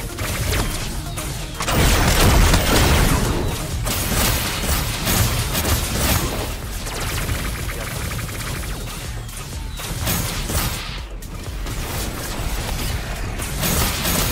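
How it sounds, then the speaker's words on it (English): Ion cannon fire in the Super Mecha Champions video game: a dense, loud, continuous barrage of blasts and mechanical crashing, sustained throughout with no pauses and no talking. "Here's some ion cannon sounds."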